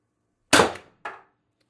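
A single sharp shot from a Mr TR50 Torpedo air rifle with an upgraded firing pin and bolt spring, a close snapping crack that decays quickly, followed by a fainter metallic click about half a second later.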